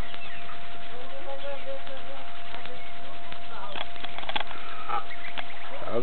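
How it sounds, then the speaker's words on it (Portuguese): Geese at a family farm honk in short, raspy bursts near the middle and end, over steady background noise, while people talk throughout. "Olha os gansos da sua avó."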